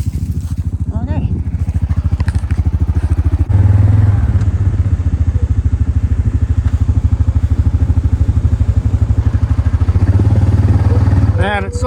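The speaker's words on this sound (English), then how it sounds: "Man, it's so much easier driving with engine braking." A quad ATV rolls along a trail with its engine braking, a steady loud rumbling drone with clattering over rough ground that continues throughout while a rider talks at times.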